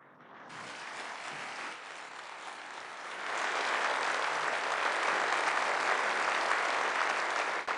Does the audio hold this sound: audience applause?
yes